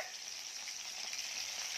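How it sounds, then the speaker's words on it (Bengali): Khoira fish fries in a pan with a steady, dense sizzle, close and continuous with no voices. "মাছ হচ্ছে ভাজা।"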